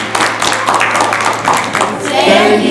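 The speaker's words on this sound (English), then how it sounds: "Let's give ourselves a clap." Children and adults clap together at a church gathering in Morden, UK. The clapping is scattered and uneven, mixed with lively voices and chatter throughout.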